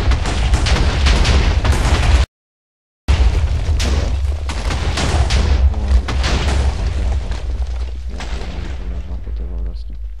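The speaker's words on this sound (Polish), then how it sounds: "Można odpalić TNT od strzał?" Loud booming TNT explosions in a Minecraft-style video game, several heavy blasts in quick succession with a brief silent gap, players talking over them.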